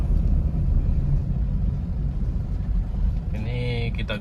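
A Toyota Innova diesel engine with a fault that makes it stall and refuse to rev runs as a steady low rumble throughout, with a voice breaking in near the end.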